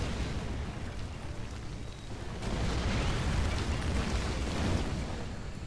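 Continuous rumbling barrage of artillery explosions in the real-time strategy game Rise of the Reds, a dense, sustained battle din that swells louder midway and stays heavy to the end.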